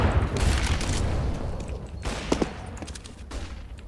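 Gunfire in CS:GO crackles in rapid bursts, loud and dense at first, then tapering into scattered sharp shots over a steady rumbling background.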